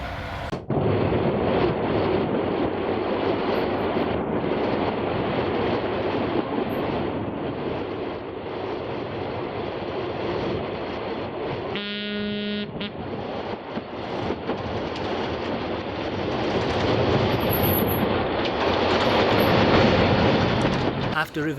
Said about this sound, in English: Number 18 is a diesel hydraulic built in Romania in 1967 and develops 440 horsepower.